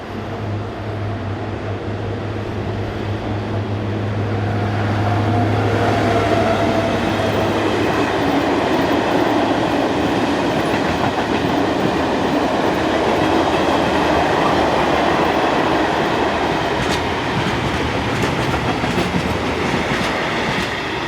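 DB Cargo locomotive 294893 hauls a southbound trip freight, a low engine drone giving way to steady, loud rumbling and rhythmic wheel clatter as the wagons roll past.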